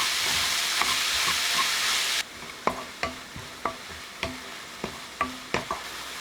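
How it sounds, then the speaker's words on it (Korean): Onion, zucchini filling and tomato are stir-fried in a pan with meat and potatoes: a loud hissing sizzle at first, then quieter frying punctuated by regular close spatula scrapes and taps. "양파와 애호박 속 토마토를 넣어 볶습니다."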